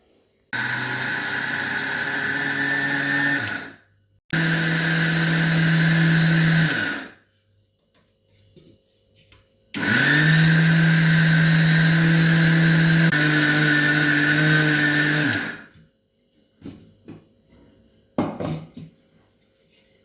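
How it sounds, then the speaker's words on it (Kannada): An electric mixer grinder grinds dried spices into kashaya powder in loud, steady bursts. There are three long runs of whirring with short pauses between them, and faint clatter follows at the end. "ಈಗ ನಾನು ಇದನ್ನೇನಾದ್ರು ಮಿಕ್ಸರ್ಗೆ ಹಾಕೊಂಡು ಬರ್ತೀನಿ"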